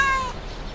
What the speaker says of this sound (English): So I'm guessing that's your cat, then?